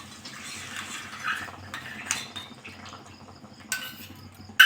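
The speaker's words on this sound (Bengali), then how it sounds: "ভালো করে নেড়ে চেড়ে নেবো।" A spoon stirs a wet rice mixture in a bowl during cooking, giving soft scraping and sloshing strokes at a steady pace, with a few brighter clinks against the bowl.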